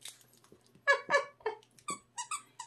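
A plush Chewbacca dog toy with a squeaker in its head squeaks repeatedly in short, high, uneven bursts as a dog chews it, close by in a quiet room.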